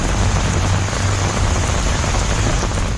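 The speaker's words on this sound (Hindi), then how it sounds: "गिर सोमनाथ में निसर्ग तूफान की वजह से तेज हवाएं चल रही हैं," Rain pours steadily during Cyclone Nisarga in Gir Somnath amid strong winds, a dense continuous hiss of falling water with no voices.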